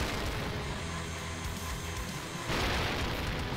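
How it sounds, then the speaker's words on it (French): Cannon fire in the video game Iron Meat rumbles as a dense, continuous wash of heavy explosions, with a fresh loud burst hitting near the end over the sustained booming. "on attend que les canons nous retirent dessus"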